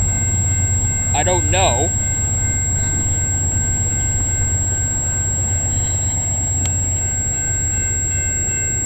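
A CN freight train led by a single C6M locomotive rolls past at close range, a loud continuous low rumble with a brief voice speaking early on.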